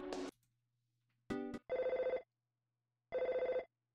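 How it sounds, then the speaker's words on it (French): Telephone ringing in the Earthbound video game: three chiptune ring bursts, the first short and the next two longer and pulsing, separated by silences and standing alone with no voices. "Allô, c'est mon téléphone que je viens d'avoir?"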